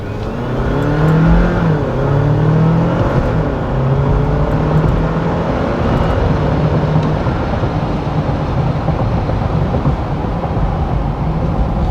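A Jeep 4xe plug-in hybrid with 470 lb-ft of torque accelerates hard from 0 to 60, its gas engine roaring loudly and rising steadily in pitch under strong, continuous road and wind noise, close and sustained throughout.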